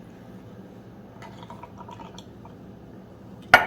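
Soy milk being poured over oats gives soft, faint liquid trickling and dripping in a quiet kitchen, ending in a sudden louder clatter.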